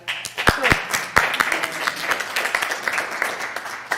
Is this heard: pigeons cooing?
no